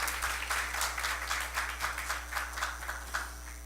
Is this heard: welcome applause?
yes